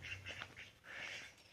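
Quick raspy duck quacks repeat in short bursts, fairly close and clear against a quiet outdoor background.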